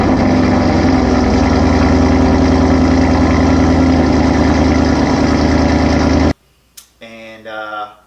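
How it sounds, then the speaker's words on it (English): A Ford Mustang with a Corsa Extreme exhaust rumbles loud and close, a deep, steady throb that runs unbroken for several seconds and then stops abruptly, after which a voice speaks briefly. "Corsa Extremes is what I have on my car, and I'll link a clip here, a sound clip of what my car sounds like."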